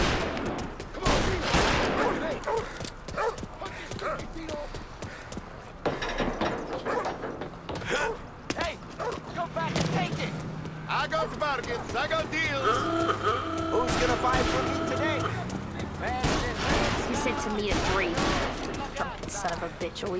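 Gunfire in a video game set in Lost Heaven, loud repeated bursts and rapid shots with crashes, under frequent speech and other game sounds.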